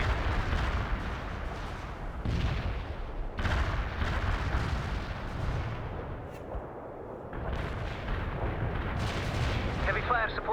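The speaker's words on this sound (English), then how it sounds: "Commencing the barrage." Artillery barrage in the war strategy game World in Conflict: repeated heavy booming shell blasts and rumbling explosions in rolling waves, loud and close, with brief pauses and faint radio-style voices.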